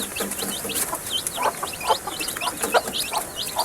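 Agitated mother hen clucking close by among her chicks, a fast run of sharp, repeated clucks with chick peeps woven through, no voices.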